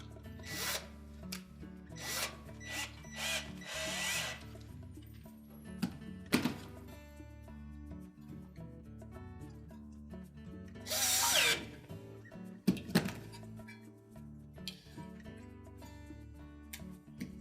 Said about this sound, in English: Now we'll position it on the bracket and then reinstall the screws.